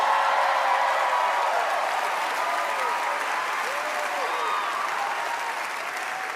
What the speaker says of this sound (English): This is where you guys should applaud and go crazy